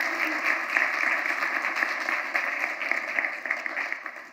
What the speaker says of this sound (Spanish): Pido un aplauso para ella